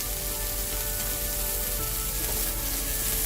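Asparagus and chicken sausage sizzle steadily in a pan with balsamic vinegar, a dense, even crackle and hiss close by with no voices.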